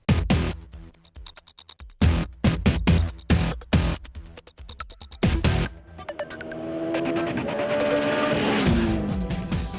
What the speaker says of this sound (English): the inline 4 is loud and all pervasive.